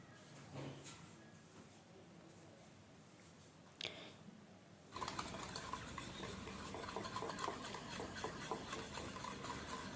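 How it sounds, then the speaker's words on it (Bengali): Oil and powdered sugar stirred together for an eggless cake batter, a steady scraping swirl in a bowl that grows louder and busier partway through, with a faint clink near the start. "খুব ভালোভাবে মেশাতে হবে, তেল আর চিনি যাতে একসাথে ভালোভাবে মিশে যায়"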